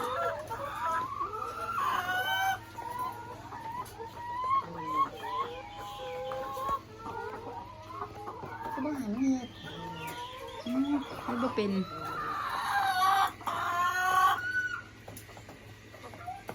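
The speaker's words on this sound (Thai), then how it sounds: "เรามาลุ้นกันว่าเราจะได้เห็นน้องไก่ไข่ไหม" Egg-laying hens on a small farm cluck steadily and close by, with repeated rising calls and a few louder squawking bursts over a constant low hum, and occasional faint voices underneath.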